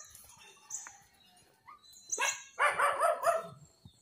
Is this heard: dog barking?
yes